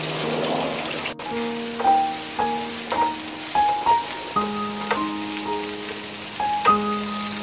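Edamame and diced Jerusalem artichoke stir-fried in a wok, steady crackling sizzle throughout at close range, with sustained tonal notes of background music layered over it.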